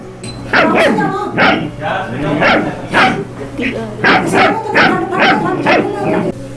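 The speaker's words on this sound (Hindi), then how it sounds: "इस बाल्टी के ऊपर कुछ ही देर में भौंकना शुरू कर देता है" A dog barks and yips at a bucket repeatedly at close range in quick, uneven bursts, with short pauses between them.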